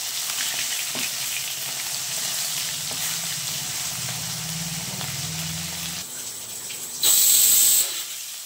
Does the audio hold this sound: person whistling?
no